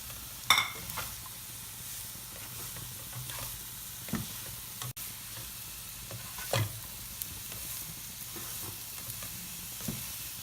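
Capsicum stir-frying in a pan for a Singaporean-style rice dish, a soft continuous sizzle punctuated by occasional spatula scrapes and taps, fairly quiet and close, without speech.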